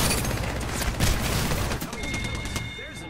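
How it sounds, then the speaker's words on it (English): Gunfire in an Apex Legends firefight, a dense burst of shots with booming low thuds, loud and close, under excited player voices. "I just got shot in the back"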